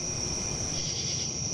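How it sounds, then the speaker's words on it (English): Crickets chirp at night in a steady, unbroken drone of dense, high trilling. It is fairly loud and even throughout, with no voices. "The crickets droned."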